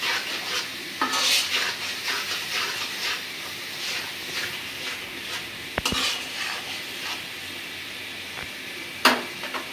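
A spice paste with ginger-garlic paste and salt fries in a pan, giving a low continuous sizzle with irregular stirring scrapes and a few sharp utensil knocks against the pan, close and free of speech.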